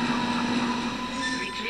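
A tram in the Dead Space video game rumbles with a steady mechanical hum and drone, continuous and moderately loud, with no talking over it.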